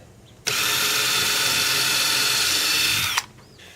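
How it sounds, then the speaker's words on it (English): A power drill whines at high speed for about three seconds while drilling a pilot hole, starting and stopping abruptly, close and loud with no voices. "I'll just drill a pilot hole and then we'll put a bigger bit on there."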